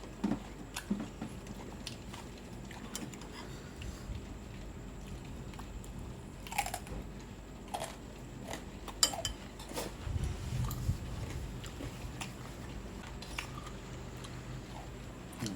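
Someone eating fish alongside a pork chop steak, soft intermittent bites and chewing with occasional crunchy clicks and faint cutlery sounds, close up and quiet.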